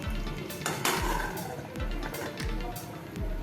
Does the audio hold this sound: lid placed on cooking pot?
yes